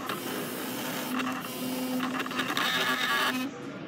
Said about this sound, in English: You can hear the toothbrush.